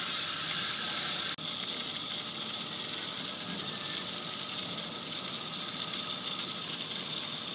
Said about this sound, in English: This way we're gonna get some water through and get the rest of that rust chemical out of there.